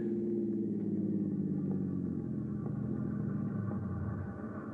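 A car engine rumbles steadily with a low, droning hum as the vehicle rolls onto railway tracks at a crossing in a 1950 radio drama, close and continuous, easing slightly toward the end.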